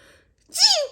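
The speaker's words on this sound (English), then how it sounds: "I have to sneeze." One short, sharp sneeze up close, following a brief quiet moment.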